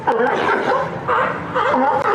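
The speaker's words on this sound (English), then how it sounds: "Barking sea lions are a regular sight in San Francisco's Pier 39" Sea lions at Pier 39 in San Francisco bark in loud, close, overlapping bursts that come in repeated waves.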